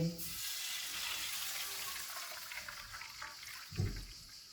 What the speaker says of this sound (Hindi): इनमें 2 कप पानी डालेंगे।